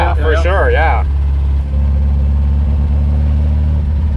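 The 1.5-litre engine of the Porsche 356-001, fitted with twin carburettors, runs with a low, steady guttural drone from inside the car, with a person talking over it at the start.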